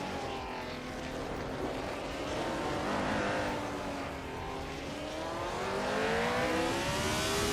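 Racing cars in a video game accelerating off the start line at the Buxton Rumbler track, a dense layered engine roar with rising whines, loud and continuous.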